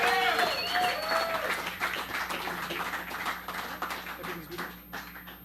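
A concert audience at a live band performance applauds with dense clapping and cheering that gradually thins out, while someone talks over it through a microphone.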